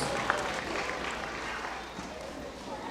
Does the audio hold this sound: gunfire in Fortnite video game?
no